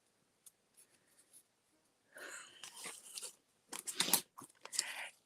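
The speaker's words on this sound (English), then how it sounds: "these snip out really nicely" Small plastic pieces from a Beebeecraft loom kit are snipped out by hand. A few faint clicks come first, then a run of sharp, close snips and crunchy cuts, with no talking.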